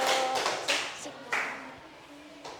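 Classroom students clapping for classmates after a group presentation on environmental pollution, a short scattered burst of hands that fades out, with a few separate claps and speech underneath.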